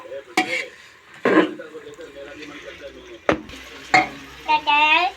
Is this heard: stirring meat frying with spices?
yes